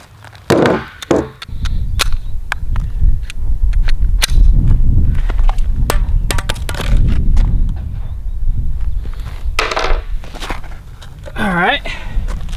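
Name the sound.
Glock 19 Gen 5 pistol gunfire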